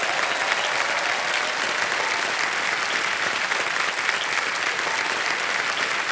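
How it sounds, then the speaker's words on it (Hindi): A studio audience on the TV quiz show Kaun Banega Crorepati gives steady, dense applause, a continuous close wash of clapping that holds at even strength throughout. "जोरदार तालियां बज जाए"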